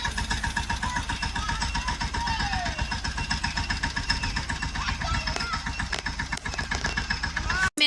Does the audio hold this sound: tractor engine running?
yes